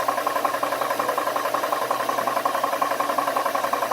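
A Nomad II air compressor runs steadily as it fills a high-pressure air tank, giving off a continuous close mechanical drone with a fast regular pulsing rattle throughout, with no speech.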